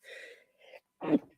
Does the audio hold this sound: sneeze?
yes